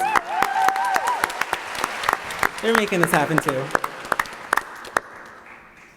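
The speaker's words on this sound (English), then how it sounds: "So give them a round of applause." An audience at a Wellesley new student orientation breaks into clapping and applause while a speaker's voice continues over it, the applause fading after about five seconds.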